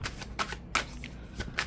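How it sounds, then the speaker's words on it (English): Tarot cards are shuffled by hand in quick riffling bursts, several crisp flutters spaced irregularly, close and fairly quiet with no talk. "I'm gonna get a good healthy shuffle"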